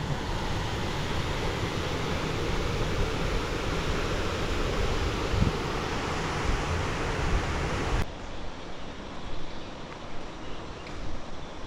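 The seventh and final tier of Chet Sao Noi waterfall, Mueduea Uthumphon, on the Muak Lek stream, roars as a steady, dense rush of falling water that stays loud and continuous throughout, dropping slightly in level near the end.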